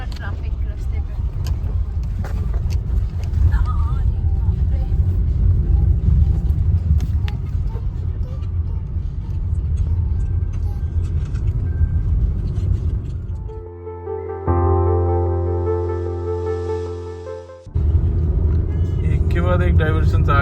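Road traffic of cars on an Indian highway between Puri and Kolkata near flyover construction and diversions, a loud continuous rumble heard from inside a car, with a brief tonal interruption midway and voices talking over it.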